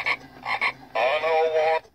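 An animated gambler frog toy with a moving mouth croaks electronically, two short croaks followed by one longer warbling croak, loud and close.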